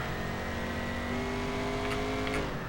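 In the racing game Race Driver Grid, a race car engine holds a steady, loud, continuous drone. Its pitch rises slightly partway through, and no voices are heard.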